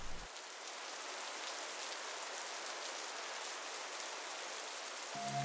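Steady rain pours on a surface in Singapore, a dense continuous hiss of drops lasting throughout, with a brief low tonal sound at the start and end.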